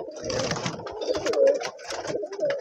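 Pigeons in a pigeon loft give repeated throaty coos, several close bursts in an uneven rhythm, moderately loud and with no talk over them.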